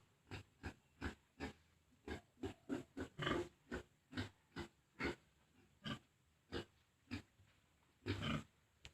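A boar and piglets in a pen give a quick run of short, separate grunts and oinks, about a dozen or more in an uneven rhythm, fairly close but quiet, with no talking.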